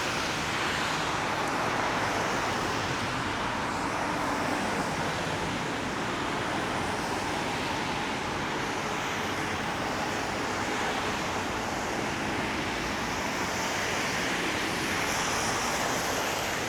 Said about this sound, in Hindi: गाड़ियों का शोर है, सड़क वेट है उस वजह से।